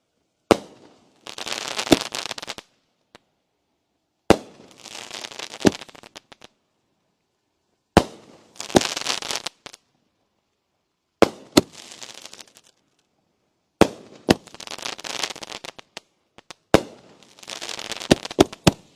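A Chinese-made firework cake called #boom fires about six separate volleys. Each volley opens with a sharp bang, and a dense crackling burst follows before a short silence.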